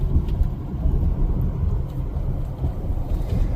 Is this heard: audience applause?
no